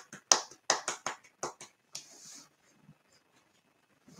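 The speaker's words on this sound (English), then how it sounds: "Applaud Jenna's potty training." A small group claps briefly in a handful of sharp, close hand claps, roughly a dozen quick strikes over two seconds, then quiet with faint stray taps.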